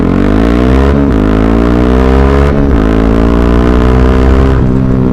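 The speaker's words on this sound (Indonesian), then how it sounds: "Mungkin gue bakalan coba digas sedikit." A Yamaha WR 155 motorcycle engine is revved repeatedly while stationary, a loud, close, throaty drone climbing in pitch through several throttle blips with brief dips between them.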